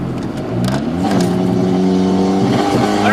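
A Honda CRX accelerating hard on a track lap, its engine climbing steadily in pitch as it pulls through the gears, loud and close with no talk over it.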